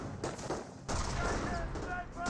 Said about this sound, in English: There's sniper shots there on those Grenadiers.